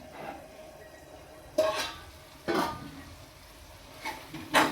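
Cabbage vegetable being stir-fried in a pan, a faint low sizzle broken by several sharp scraping and clinking strokes of the spatula against the pan, spaced a second or so apart.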